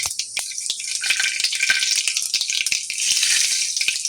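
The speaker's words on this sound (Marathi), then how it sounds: "तेल चांगलं गरम झालं, त्यामध्ये मोहरी, जिरं, आपला हा खडा मसाला" Mustard seeds, cumin and whole spices dropped into hot oil sizzle loudly and steadily up close, with crackling pops and spatters breaking through the frying hiss.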